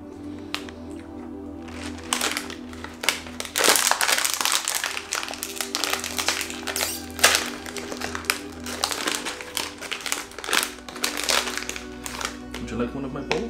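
A packet of Click Balls chocolate snacks from Israel crinkles and rustles in bursts as it is handled and torn open, with people chatting over and between the crackles.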